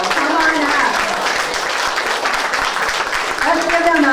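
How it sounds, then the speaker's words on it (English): An audience applauds at an award ceremony as people are called up, steady dense clapping filling the whole stretch at close, loud level, with a voice speaking over it at the start and end. "Let's give them a big round of applause."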